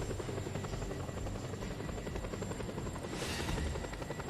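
Helicopter in the video game Just Cause 2, its rotor chopping steadily and close throughout, with a brief brighter swell near the end and no talking.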